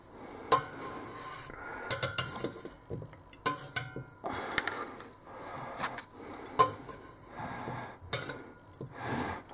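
Clarified butter going into a 5-liter pot for goulash: scattered clinks, scrapes and knocks of utensil against metal, close and moderately loud, with no speech.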